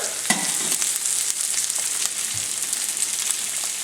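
Stuffed Cajun-style chicken breasts fry in a pan just after being flipped. A dense, bright sizzle runs steadily with small pops and spatters throughout, close up and with no talking.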